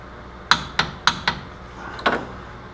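Ratchet tool knocks and clicks in short bursts while ATV brake caliper bolts are snugged up, four quick sharp impacts, a pause, then a final double hit, close and clear.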